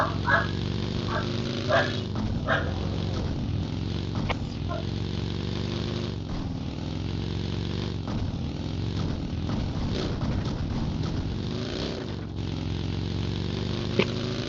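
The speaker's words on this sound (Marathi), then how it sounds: "कोणाचा कुत्रा बघतो." A dog barks in a few short bursts inside the PUBG Erangel map, partly buried under a steady, droning vehicle engine that runs through the whole stretch.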